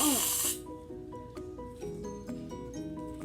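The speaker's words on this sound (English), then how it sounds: "I'm gonna add shaving cream to make it fluffy." Shaving cream hisses from an aerosol can into homemade slime in a short loud burst at the start, then fades, leaving soft squishy background sounds.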